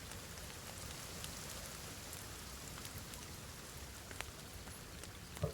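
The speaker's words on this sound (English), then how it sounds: "One benefit of the rain" Rain falls steadily in the survival video game The Forest, a soft, even hiss of drops with a few brief louder ticks near the end, faint and alone.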